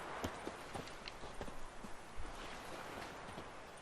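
Hooves of the horse Roach clip-clop in The Witcher 3: Hearts of Stone (Next Gen), a steady walking rhythm of soft, close, moderately loud footfalls over a faint ambient bed, with no voices.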